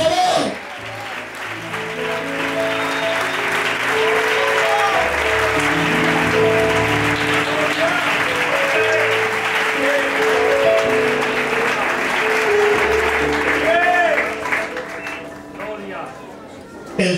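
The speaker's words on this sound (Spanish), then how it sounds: "Aplaude a tu Dios, por favor." Congregation applause at a church preaching event in Oviedo, a long stretch of loud clapping blended with music and voices, swelling and then fading near the end.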